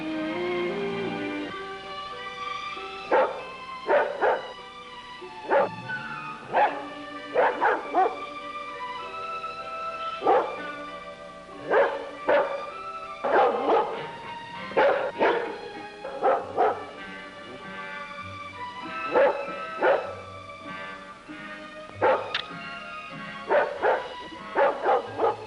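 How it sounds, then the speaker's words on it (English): Dog barking over and over at night, sharp clustered barks and yips in irregular bursts at a moderate distance, sounding alone across a long stretch. "That dog has been barking for the last hour."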